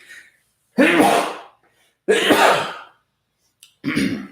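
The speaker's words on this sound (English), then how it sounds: "Sorry, I had to sneeze there." Three sharp, loud sneezes or explosive coughs in close succession, separated by brief silences, close to the listener.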